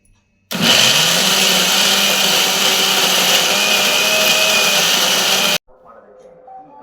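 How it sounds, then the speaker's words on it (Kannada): A mixer grinder blends a Kannada biryani masala of green chilli, onion, mint, coriander leaves and garlic, running loud and steady for about five seconds before switching off, followed by faint kitchen noise. "ಹಸಿಮೆಣಸಿನ್ಕಾಯಿ ಈರುಳ್ಳಿ ಪುದೀನ ಕೊತ್ತಂಬರಿ ಸೊಪ್ಪು ಬೆಳ್ಳುಳ್ಳಿ ಇದೆಲ್ಲ ಹಾಕಿರೋ ಮಸಾಲೆನ ರುಬ್ಕೊಳ್ಳೋಣ"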